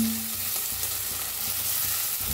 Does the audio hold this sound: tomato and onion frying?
yes